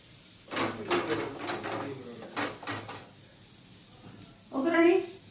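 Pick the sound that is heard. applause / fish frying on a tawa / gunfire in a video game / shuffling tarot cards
fish frying on a tawa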